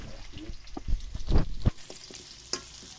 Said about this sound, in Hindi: आलू को भी अच्छी तरह से फ्राई करेंगे।